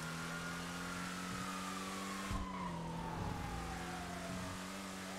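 Car in a video game pulling away, its engine note steady and then gliding lower as it recedes, with a brief swell and some tire noise midway, continuous and fairly loud with no talk.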